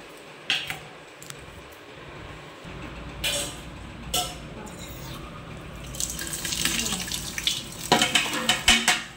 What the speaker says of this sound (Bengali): এবার আমি ধুয়ে নেবো ভালো করে